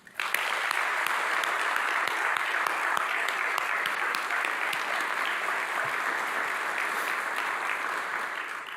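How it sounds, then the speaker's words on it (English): Sustained audience applause at a community gathering in Knoxville, honoring local businesses; dense steady clapping from a sizable crowd, loud and continuous for the whole stretch, tapering slightly at the end. "Let's please show all these great businesses how much we appreciate them with a round of applause."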